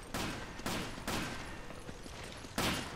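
Gunshots in the video game Resident Evil 5: four sharp, loud bursts spaced unevenly over a low rumbling background, with no talking over them.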